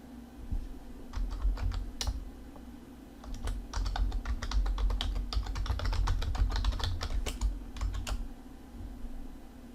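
Someone types a username and password on a computer keyboard: a close run of quick, uneven key clicks in short bursts with brief pauses, over a low steady hum, and no talking.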